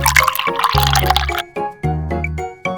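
Water poured into a pan while cooking miniature stuffed squid, a few short bursts of liquid pouring and dripping with clinks, close and fairly loud.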